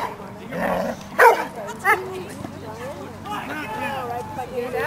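A puppy yips and barks a few times, with short whimpery sounds, while people talk close by almost throughout.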